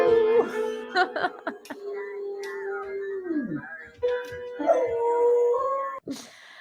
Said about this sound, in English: my dog's going nuts right now